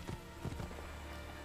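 A few hoof clops from a horse in Assassin's Creed II, three or four soft irregular strikes early on, fairly faint over a low game ambience.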